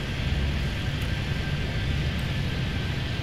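Steady, loud jet engine roar from a Steamer flight aircraft going around at Miami airport in Airport Madness 3D, a continuous broadband rush with little change over the span.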